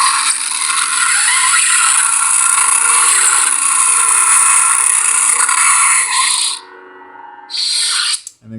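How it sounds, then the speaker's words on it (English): Proffie-board lightsaber blade lockup effect on a custom Malcolm Reynolds Firefly saber: a loud, sustained crackling buzz that drops out near the end before a brief return. "If you hold down aux and hit the saber, you get blade lock up."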